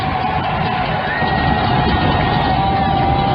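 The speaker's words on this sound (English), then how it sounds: "Crowd making a racket." A college football crowd at CSU-Pueblo versus Colorado Mesa roars loudly in the closing minutes, a steady wall of cheering and yelling with whoops rising above it.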